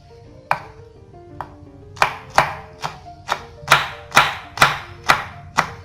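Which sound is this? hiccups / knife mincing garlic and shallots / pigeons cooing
knife mincing garlic and shallots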